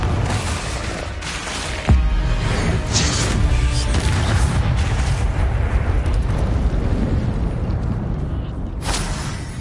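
A Bombarda spell detonates in Hogwarts Legacy, a sudden deep boom followed by a long, loud rumbling roar and crackling debris that fills the whole stretch, with no talk.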